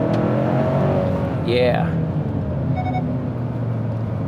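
A 2022 Hyundai Santa Cruz SEL Premium AWD with a 4-cylinder engine accelerates under a continuous cabin drone and road rumble, with someone talking over it.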